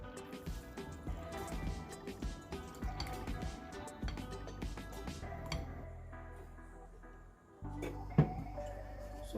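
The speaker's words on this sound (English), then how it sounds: "we're gonna go ahead and actually soak our basmati rice in water for about 20 to 25 minutes" Water poured over basmati rice to soak, a steady liquid fill with drips and small splashes, close and moderately loud, settling toward the end with a brief clink, no talking.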